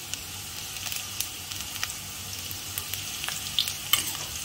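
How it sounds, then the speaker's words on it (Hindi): Crushed ginger fries with onions in a pan, giving a continuous low sizzle with scattered crackles and light stirring scrapes, moderately quiet and close. "अब इसमें क्रश की हुई अदरक डालेंगे"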